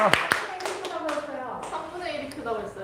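A few scattered hand claps from a group at a church gathering, sharp and close, landing mostly near the start and then thinning out beneath continuous adult talk.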